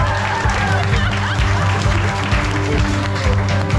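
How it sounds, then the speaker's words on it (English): Audience clapping at an Irish music and dance show, mixed with sustained musical tones and crowd noise, fairly loud and busy throughout. "Give a big round of applause."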